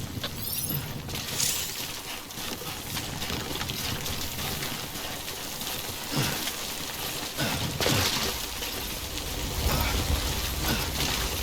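Steady timefall rain hisses across the landscape in the video game Death Stranding, a constant broadband wash with scattered droplet spatters and faint background rumble, no voices.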